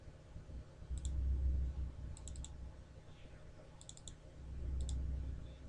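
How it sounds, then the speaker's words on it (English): Four separate pairs or bursts of sharp computer mouse clicks, double-clicks on a simulation panel, spaced about a second apart over a low steady room hum. "Now we're going to double click the simulation panel."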